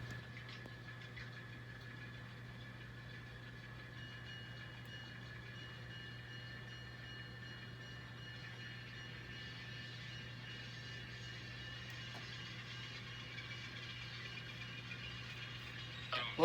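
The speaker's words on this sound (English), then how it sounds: "Love those Alco sounds." An N scale model Alco diesel locomotive plays its sound, a faint, steady low engine hum and drone with a light mechanical buzz over it, continuous throughout.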